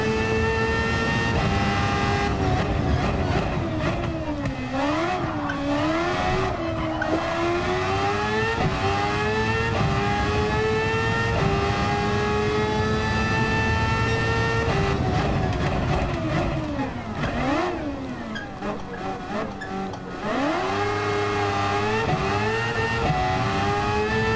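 A race car engine in Gran Turismo 7 revs loud and continuous, with sharp climbs and drops in pitch as it shifts through gears and brakes, with no voice over it.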